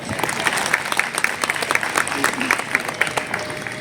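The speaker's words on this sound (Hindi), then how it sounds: "जोरदार तालियों से स्वागत मैम का" Audience applause at a public event welcoming a state minister on Lodhi Road, steady clapping from a crowd, moderately distant, with some talk mixed in.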